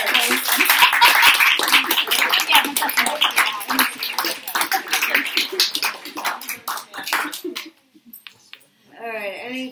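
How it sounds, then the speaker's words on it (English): An audience claps for readers at a literary reading in New York, brisk loud clapping with some cheering that thins out and stops, followed by a voice speaking at the end. "Give it a clap of those readers."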